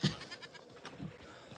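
Several goats, a mother with her young, bleat in short calls close by, loudest at the start, with quieter bleats following across the brief stretch.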